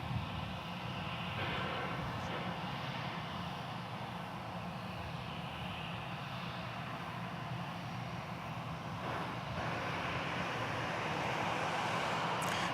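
A commercial airplane arriving from Tallahassee at DFW Airport, a low, fairly distant engine rumble and whine holding steadily throughout, with a faint rising swell near the end.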